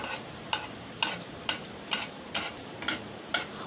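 Layered Old Dhaka-style paratha shallow-fries in oil with a soft, steady sizzle, broken by a regular series of quick scraping strokes about every half second, with no voices.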